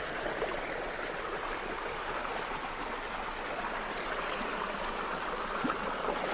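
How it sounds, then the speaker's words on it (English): A creek flows steadily with an even, close rush of water and no other sounds. "the sound of water."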